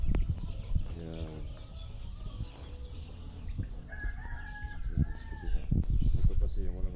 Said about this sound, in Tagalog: Dito kami nagpapapisa ng mga manok na native